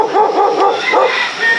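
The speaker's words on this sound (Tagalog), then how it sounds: "may aso." A dog barks and yips in quick, loud bursts close by, with whimpering tones, at a rural spot during the rainy season.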